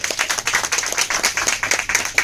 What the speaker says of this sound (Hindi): जीतू भाई सर के लिए जोरदार ताली हो जाए।